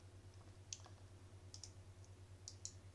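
Several soft, sharp computer mouse clicks spaced irregularly over a quiet background with a low steady electrical hum, made while the control key is held down to select items.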